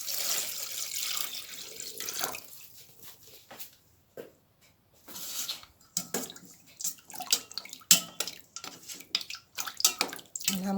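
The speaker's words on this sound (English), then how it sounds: "I'm gonna pour off this water and then add some more water and rinse it again" Red peas being rinsed in a pot under a running kitchen tap for stew peas: a steady, soft splash and trickle of water, with uneven surges and brief pauses as the flow shifts.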